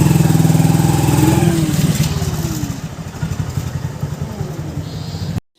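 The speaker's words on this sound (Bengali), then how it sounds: "ও এখন উঠবে বাইকে।" A motorbike idles close by with a loud, throbbing putter, easing off and settling into a rougher, lighter chug before cutting out abruptly.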